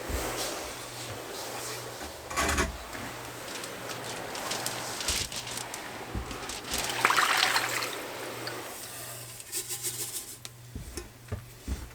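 Warm water poured onto silica sand on a germination table, a steady trickling and splashing over a low background hum, with louder bursts around a few seconds in and near the end.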